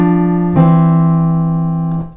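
Piano with right and left hand sounding together in a beginner lesson, one sustained chord that rings and slowly decays, with a second soft strike near the end, close and without talking.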